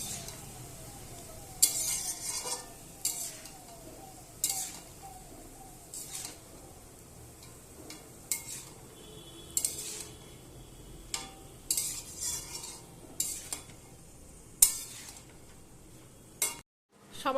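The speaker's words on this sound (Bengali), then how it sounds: "এবার মশলাগুলোকে একটু কষাবো আমি" Spices, vegetables and spinach stir-fried in a pan for khichuri give a soft, continuous sizzle. Repeated sharp scrapes and clinks of a spoon against the pan break through it in irregular bursts throughout.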